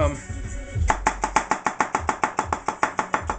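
A kitchen knife chops food on a cutting board in a fast, steady rhythm of about fifteen crisp, evenly spaced knocks. The chopping starts after a moment of faint background noise and stays close and loud.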